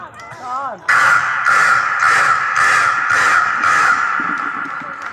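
A man imitates a crow with his voice on stage at a Vinayaka Chavithi orchestra program, giving about five loud, evenly spaced harsh caws after a short spoken lead-in.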